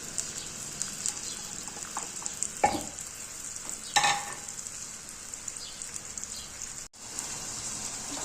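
Finely chopped onion, one large one, frying in about half a cup of oil for a mutton paya curry, giving a steady soft sizzle throughout with a couple of brief sharper crackles and stirring scrapes.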